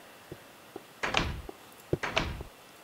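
Door shutting in Minecraft after a button click: a couple of soft clicks followed by two solid wooden thunks about a second apart, close and clear with no talking.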